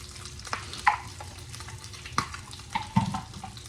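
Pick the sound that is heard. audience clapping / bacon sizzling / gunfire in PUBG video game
bacon sizzling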